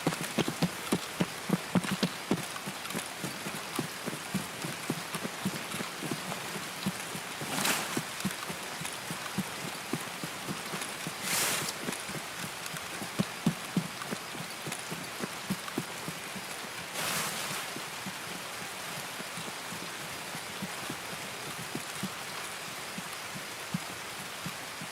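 Heavy rain pours steadily in Escape from Tarkov on the Streets of Tarkov map near a pier: a dense, continuous patter of drops close by, with a few brief louder gusts of downpour.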